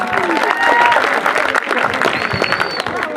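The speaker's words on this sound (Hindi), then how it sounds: "एक बार जोरदार तालियां" Audience applause at a school staff celebration and ramp-walk event, a steady dense clapping wash with crowd noise and some voices mixed in throughout.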